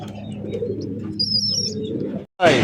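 Fancy and racing pigeons, including black Shekhar pigeons, coo in a low, steady murmur, with faint chirps above; a sudden brief flutter ends it.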